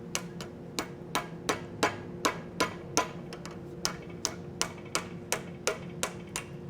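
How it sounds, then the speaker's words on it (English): A blacksmith forges an acanthus leaf, striking hot metal on an anvil with a hammer in a steady, fast run of about twenty sharp ringing blows, close and loud over a low background hum. "So Jessica, go ahead and go to the anvil cam there. I'm going to try to work this down as fast as humanly possible"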